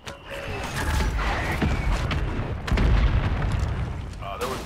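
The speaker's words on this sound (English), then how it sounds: "Watch the fucking mortar strike." Mortar strike explosions in Call of Duty MWIII: deep, rumbling booms that roll through and swell again partway, with faint voice chatter over the blasts.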